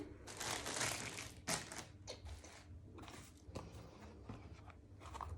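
Slippers being packed into an ordinary plastic bag for a maternity hospital bag: close, irregular crinkling and rustling of the plastic, with sharper crackles in bursts and no talking.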